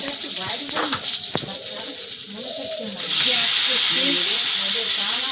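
Panch phoron spices hit hot oil, a broad loud hiss that bursts in suddenly and holds steady after a stretch of softer clatter and background voices.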